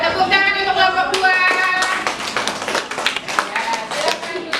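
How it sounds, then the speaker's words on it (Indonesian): A classroom of students claps for group 2 after its presentation, a burst of uneven, close-up clapping with sharp individual hits, heard under the teacher's voice. "Tepuk tangan untuk kelompok 2"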